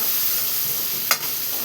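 Onion, tomato, chilli masala and turmeric sauté in a pan for an eggplant and potato dish, giving an even close sizzle and one short scrape of stirring.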